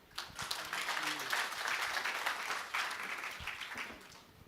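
Audience applause at an energy-week conference session in a large hall, a sustained wash of many hands clapping from a distance that swells and fades over several seconds, with no clear speech.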